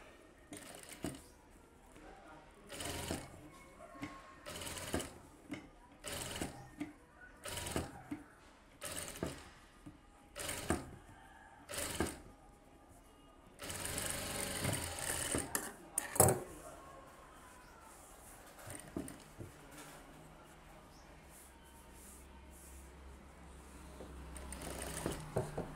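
A sewing machine stitches a frill for a stylish blouse back neck, running in a string of short, loud bursts with brief pauses, then a longer stretch of steady whirring near the end.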